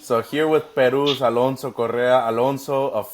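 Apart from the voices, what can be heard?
No everyday noises stand out.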